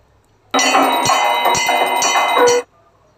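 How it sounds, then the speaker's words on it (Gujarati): A temple jhalar bell rung during darshan: a loud, close, metallic clanging with rapid repeated strikes that rings for about two seconds, then stops abruptly, with no voices. "ધાનુને ખબર પડવા લાગી છે કે જ્યારે ઝાલર વાગે ને ત્યારે તાળી વગાડાય"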